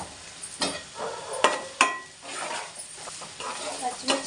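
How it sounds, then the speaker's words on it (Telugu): Onions stewing in a pan for mutton gongura, a soft steady sizzle broken by sharp scrapes and clinks of a spoon against the pan, close and moderately loud, with no talk. "గొమ్మని మగ్గుతాయి ఉల్లిపాయలు."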